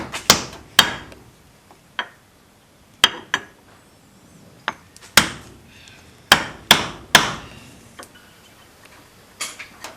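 A seal is driven into an open-topped housing during a clutch change by tapping on a piece of wood, a series of sharp, close hammer knocks at irregular intervals, some in quick pairs, with quiet gaps between.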